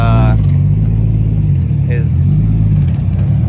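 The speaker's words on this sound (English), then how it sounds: "Got Alex pulling his SC in." A Lexus SC300 with a 655 hp build rolls into a shop late at night, its low engine rumble steady and close, with a brief rev as it moves in and a voice speaking over it.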